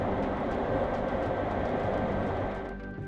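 A running train gives a steady, full rumble with a faint metallic clatter, holding level for over two seconds before thinning out as the sound recedes. No speech is heard.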